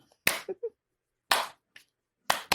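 Sharp, close hand claps in three clusters, a single loud clap or two followed by softer smaller slaps, separated by silence, with no talking.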